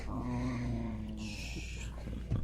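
A shop dog vocalizes playfully indoors in a close, drawn-out groaning whine that slides in pitch, followed by snorting breaths and a soft thump near the end.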